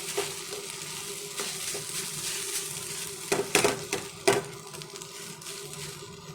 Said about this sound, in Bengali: এবার এটাকে ভালো করে মিক্স করব।